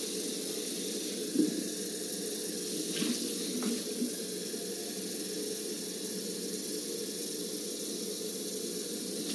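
Water running from a tap into a sink, a steady hissing flow that stays constant throughout with a few faint clinks over it, fairly quiet and with no talking.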